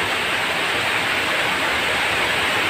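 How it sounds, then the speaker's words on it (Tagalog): Heavy rain pours down steadily on the way to a flooded creek crossing, a dense, unbroken broadband hiss with no pauses and no voices. "So, kusog niya po kayong ulang."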